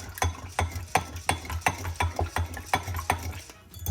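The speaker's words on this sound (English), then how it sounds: "I'm gonna give these just a quick little whisk." Two farm-fresh eggs are whisked in a bowl, giving a quick, regular run of light clicking taps about three per second, close and fairly quiet.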